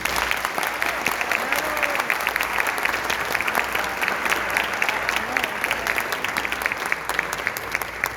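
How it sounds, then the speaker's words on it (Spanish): A large audience at an international academic congress in Colombia bursts into loud, sustained applause, dense clapping with sharp individual claps standing out, and faint voices murmuring beneath. "Les invitamos a brindarles un fuerte aplauso."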